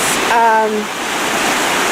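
A rushing creek swollen by snow runoff on the shore of Lake Superior makes a loud, steady roar of water throughout, with a brief tonal bird-like call early on.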